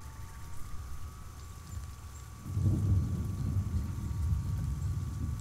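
Rain and thunder in the video game Pixark: a quiet ambient bed gives way midway to a low rolling rumble with steady rain noise that continues to the end.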